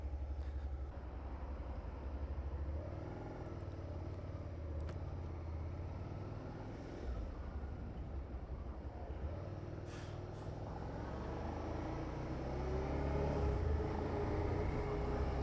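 Suzuki SV650X motorcycle being ridden, a continuous low engine drone with road and wind noise, brief hissing bursts, and a slight swell toward the end.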